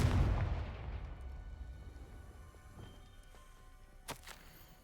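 A Confringo explosive spell goes off in Hogwarts Legacy, a booming blast that decays into a long rumbling tail, followed by a sharp crack near the end.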